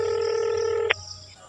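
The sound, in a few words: mobile phone dialing tones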